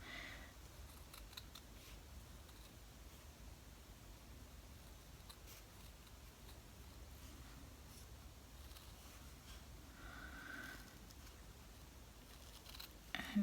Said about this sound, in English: Now I'm going to use my little scissors to go ahead and cut.